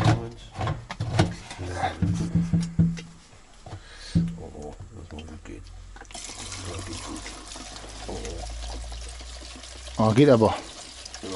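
Fuel poured through a handheld funnel into the tank of an Opel Corsa A GSI race car, a steady liquid gurgle building after brief clunks, with people talking nearby at the start.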